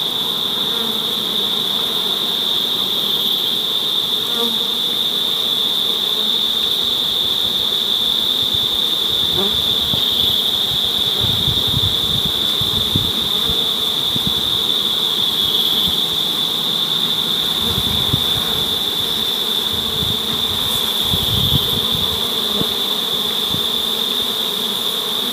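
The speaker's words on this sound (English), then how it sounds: "I'm just going to use a smoke now to get these bees down" A small swarm of honeybees hums in a constant high drone around a box as they are smoked to march in, the buzzing loud and unbroken from start to finish with occasional low rumbles beneath.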